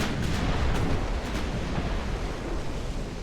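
Warship main guns firing in Ultimate Admiral: Dreadnoughts, with a dense, continuous roar of distant artillery booms rolling together over the sea, with a few sharper reports early on.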